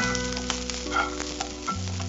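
Ingredients for a mutton dal curry sautéing in a pan, a steady close sizzle and frying crackle with a few soft stirring scrapes, no talk.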